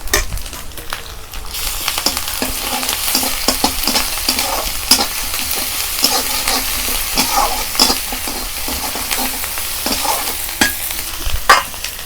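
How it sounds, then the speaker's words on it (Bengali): Onion fries in oil in a pan with garlic paste while being stirred, giving a continuous loud sizzle broken by repeated scraping and clattering strokes of the spoon throughout. "পেঁয়াজটা সুন্দরভাবে কষিয়ে নিয়েছি, এর মধ্যে আমি রসুন বাটাটা দিয়ে দেব।"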